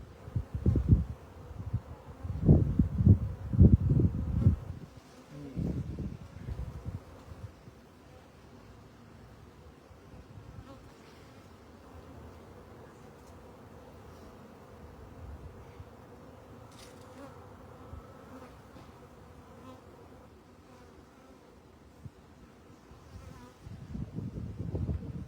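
A honeybee swarm buzzes with bees fanning during a swarm rescue, a dense low hum that surges loud and close at the start, drops to a quieter steady drone, then swells again near the end.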